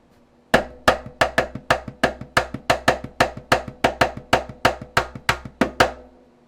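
Snare drum cross-stick clicks mimicking a tambourine pattern, with ghost strokes woven between them, a steady brisk rhythm of about twenty crisp, close hits played solo.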